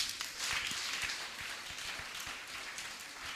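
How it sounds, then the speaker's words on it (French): Crowd applause at a Christian gathering, a steady wash of many hands clapping at moderate distance with a few sharper individual claps standing out. "Vous pouvez acclamer pour ça."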